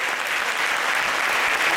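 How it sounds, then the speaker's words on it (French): Audience at a magic show applauds loudly and steadily, a dense continuous wash of many hands clapping with no voices standing out. "Et on peut les applaudir bien fort."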